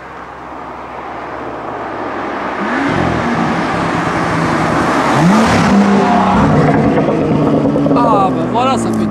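A modified BMW M2 exhaust revs loudly nearby, its engine note rising and falling with a few crackles and pops, while people talk over it.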